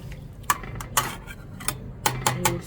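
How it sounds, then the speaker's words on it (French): A spoon knocks and scrapes inside a cooking pot while pounded celery and parsley are stirred in for a Malian fish saga saga, several sharp metallic clinks spaced irregularly over quiet background. "Là, c'est céleri et persil qu'on avait pilé avant. Voilà. On va mélanger."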